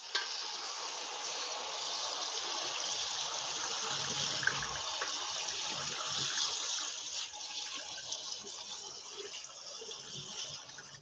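Steady gush of tap water running from a kitchen faucet while cod or haddock fillets are rinsed, a continuous fairly close hiss with slight splashing changes, no talking.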